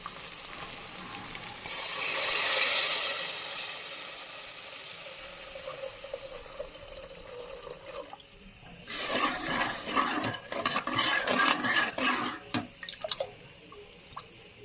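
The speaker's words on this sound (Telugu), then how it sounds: "వాటర్ కొలిసి పోస్తున్నాం" Water pours into a hot pot for cooking rice with a burst of hissing sizzle, then quieter bubbling and a run of splashy clatter close by.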